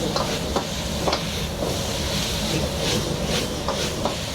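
Chicken fries with shrimp chili oil in a hot pan, giving a continuous sizzle with intermittent sharp scraping stirs throughout.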